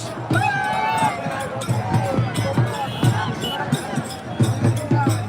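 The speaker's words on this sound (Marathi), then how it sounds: "जल्लोष" A big crowd on a Maratha march toward Mumbai makes a restless outdoor din of shouts, chatter and bursts of noise that rise and fall in uneven waves.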